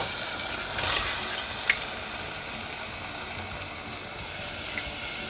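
Spiced masala with beaten curd sizzles steadily in a pan over high heat, a continuous broadband fry with a few brief stirring scrapes near the start, no voices.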